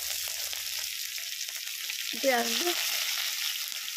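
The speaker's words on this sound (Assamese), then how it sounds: "এতিয়া পাঁচফোৰণ দিলোঁ, পিঁয়াজ দিলোঁ" Oil sizzles with a steady hiss, then a sudden louder burst of frying as panch phoron spices and onion hit the pan, settling into continuous crackling.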